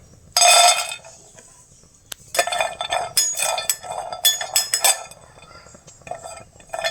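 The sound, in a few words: roasting pistachios in a pan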